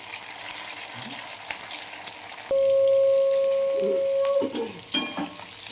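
Chopped tomatoes go into a hot pan of oil and fry with a loud, steady sizzle and crackle that jumps up partway through, alone without talk.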